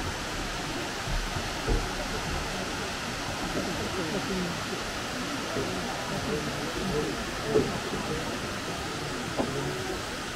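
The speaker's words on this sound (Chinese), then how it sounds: "这个瀑布从最上面落下来" Ogawa waterfall in Kagoshima heard from a viewing platform, a steady broadband roar of falling water, constant and moderately loud with no clear speech over it.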